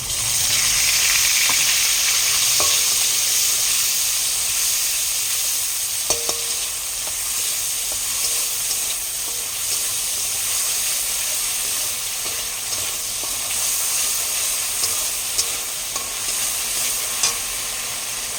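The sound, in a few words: frying green chilli paste and ginger-garlic paste in a pan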